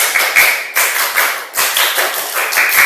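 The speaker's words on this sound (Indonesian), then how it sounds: "tepuk pramuka" A classroom of schoolchildren claps in unison, performing the Indonesian scout clapping pattern: a loud, steady run of sharp group claps in rhythmic bursts with brief pauses between phrases.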